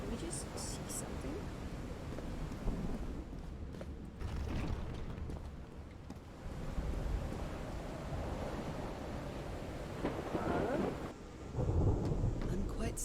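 A thunderstorm in the video game Call of the Sea rumbles low and continuous, with rain-like hiss and swelling thunder under a soft, quiet voice speaking.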